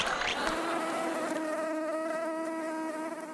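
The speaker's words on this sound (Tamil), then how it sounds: "என்னடா ஒரே கொசு புடுங்குது" Mosquitoes whine in a close, loud, continuous high buzz with wavering pitch, steady throughout with no talk.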